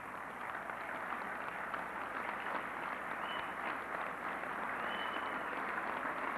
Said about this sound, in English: let's have a nice round of applause for the DiPaolo family